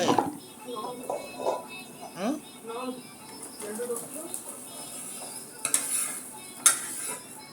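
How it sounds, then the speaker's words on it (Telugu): Mango pickle pieces are stirred and tossed with spice powder using a utensil, soft scraping and clattering sounds under a person talking through most of the clip. "ఇలాగా పౌడర్ అన్ని కలుపుకొని అందులో ముక్కలు వేసుకోవాలి"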